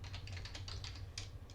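Fingers type a Linux command on a computer keyboard, giving a steady run of close, crisp key clicks with no voice over them.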